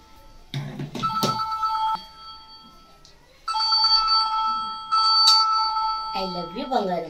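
A telephone at home rings with a steady electronic ringtone in repeated bursts, with people talking over and around it.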